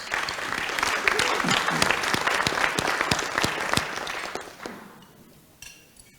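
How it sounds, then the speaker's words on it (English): Members at a Toledo Rotary Club meeting applaud a newly approved member with a sustained round of clapping and some murmured voices, tapering off after about four seconds into quieter room sound. "So let's give him a great round of applause."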